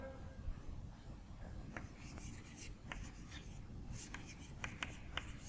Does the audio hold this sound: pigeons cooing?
no